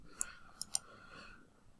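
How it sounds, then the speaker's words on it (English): Mouse clicks on a computer, three sharp, faint clicks in quick succession, close and quiet against a near-silent background. "we're going to click Replace All in All Open Documents"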